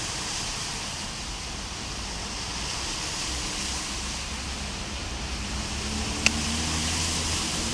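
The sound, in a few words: heavy rain downpour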